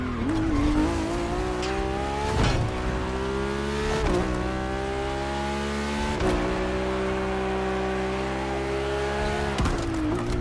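A Ferrari F80 supercar in The Crew Motorfest racing game, its engine holding a high, strained whine at speed, broken by repeated gear shifts and short bursts of tire noise, loud and continuous.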